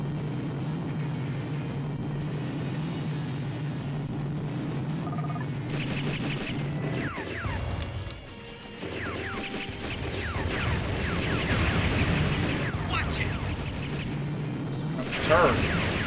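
Rapid missile launches and explosive bursts with mechanical whirs and crashes in the PS2 mech game Robotech: Battlecry, layered over a steady engine drone, with a voice talking across parts of it.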